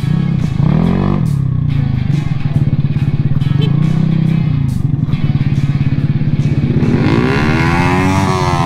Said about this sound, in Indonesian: Saya menggunakan knalpot samlong ya.